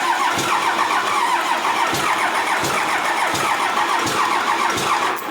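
A Cummins diesel engine that sat outside for about three and a half years, with a weak injection pump, cranks steadily in a loud, continuous rhythmic churn with repeated pulses, heard up close.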